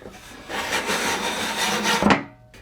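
Scrap MDF back panel slid into place on a router table stand, a close, steady wooden scraping rub lasting about two seconds, ending in a sharp knock as it seats.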